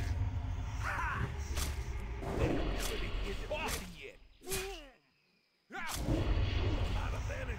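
Several sharp gunshots from a player's gun in Turtle WoW, the vanilla-plus World of Warcraft server, crack out at irregular intervals over busy game sound and music, with a brief near-silent gap before the din returns.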